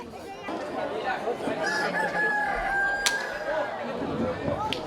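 A rooster crows in a crowing contest at Son Servera, the cock-a-doodle-doo rising over a chattering outdoor crowd, with other fowl clucking nearby and the crowd noise staying steady throughout.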